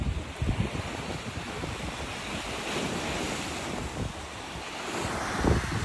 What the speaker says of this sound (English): Nothing better than listening to that sound of the sea and the ocean just battering up against something.